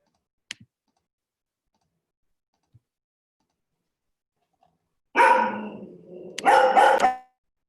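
A dog gives a couple of loud, close barks in a quick burst after a long near-silent stretch broken only by faint clicks.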